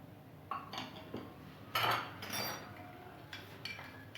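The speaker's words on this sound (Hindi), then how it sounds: "नमक, अच्छी तरह से इसे मिक्स कर लेते हैं।" Dumpling filling being mixed with cornflour, soy sauce and salt, heard as close clinks and scrapes of a spoon against a bowl in irregular bursts, with one louder stretch of clattering partway through.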